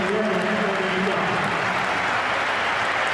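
Stadium crowd at a Chelsea vs Tottenham Hotspur football match applauds as Damien Duff is substituted, a steady, dense roar of distant clapping and crowd noise lasting throughout.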